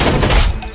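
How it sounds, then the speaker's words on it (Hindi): Rapid, loud bursts of gunfire crackle in a film battle scene where soldiers are cut down, a dense volley of shots packed into under a second. "फिर गोलियों की बारिश हुई और जनरल के सैनिकों की मौत हुई।"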